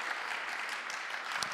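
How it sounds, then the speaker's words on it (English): A church congregation at a Vision Sunday service in St John's, Hampton Wick, applauds in a brief, steady burst of many hands clapping together, dense and even throughout. "Let's give them a round of applause."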